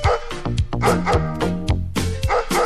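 A dog barks repeatedly in quick yips and bow-wows, loud and close, mixed into a busy oldies-style music backing.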